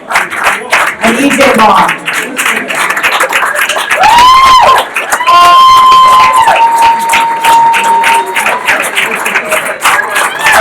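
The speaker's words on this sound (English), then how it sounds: "Please give another round of applause for this exciting team" Crowd applauding and cheering at a men's basketball hall of fame ceremony for the 2001-02 team, steady clapping filling the whole stretch beneath an announcer reading names over a PA.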